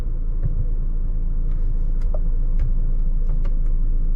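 A 2023 BMW X1 drives in sport mode with a steady low cabin rumble and a few faint clicks over the top. It sounds constant and moderately quiet.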